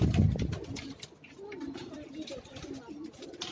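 Soft repeated cooing from pigeons, including breeds from France, on a Karachi rooftop in New Rizvia Society, quiet and mixed with faint background noise.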